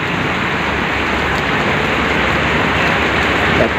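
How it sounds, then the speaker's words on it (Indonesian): Morning rain falls in a steady, loud wash of broadband hiss that holds constant throughout, with no voices. "Harinya hujan nih."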